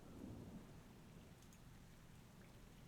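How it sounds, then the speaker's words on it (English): Steady rain with low rolling thunder runs underneath a game session of Elder Scrolls Online, a constant soft wash that stays at a quiet, even level with no voices heard. "I also have rain in the background,"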